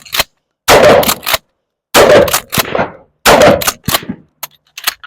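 Three loud, close shotgun blasts of double-aught buckshot fired at a target about 50 meters away, spaced roughly a second apart, each followed by clattering echoes and a few fainter sharp knocks.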